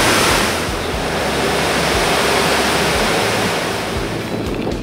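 Sea surges roar in and out of a coastal blowhole along the northern Spanish coastal path, a loud, continuous, enveloping wash of surf with wind rumbling against the microphone.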